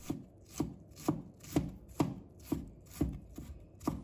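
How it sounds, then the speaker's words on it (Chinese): A knife minces fresh ginger on a cutting board in steady, evenly spaced chops, about two per second, close and fairly quiet, with nothing else heard. "再准备1块生姜，把它切成片， 再切成丝，然后切成末。"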